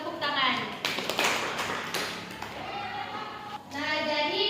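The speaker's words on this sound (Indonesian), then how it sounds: "Tepuk tangan." Students in a university teaching-simulation classroom clap hands together for a group presentation, a brief burst of clapping mixed with voices, with a voice speaking over it at the end.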